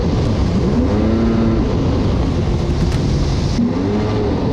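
A Yamaha GP1200R personal watercraft engine idling and running while it warms up, a loud, close, steady motor drone with a couple of slight rises in revs.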